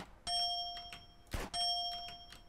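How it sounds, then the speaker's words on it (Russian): A bright bell in GTA San Andreas multiplayer (SA-MP) dings twice with a ringing tail, separated by a short sharp thud, in an otherwise quiet game soundscape. "Смотрите, какой будет звук колокольчика."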